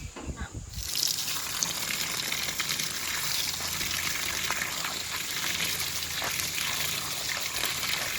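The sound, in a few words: washing water spinach greens in running water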